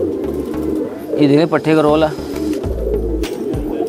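Sambhal kaldume pigeons coo in a short burst of warbling calls, close and clear, while someone talks over and around them.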